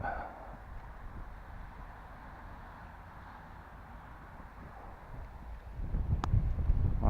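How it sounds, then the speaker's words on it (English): Steady outdoor wind buffeting the microphone, a low continuous rumble with gusts swelling louder near the end, no voices over it. "That is too windy."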